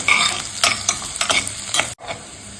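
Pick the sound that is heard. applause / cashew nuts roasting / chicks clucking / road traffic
cashew nuts roasting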